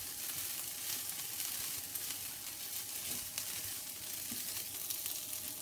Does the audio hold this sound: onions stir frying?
yes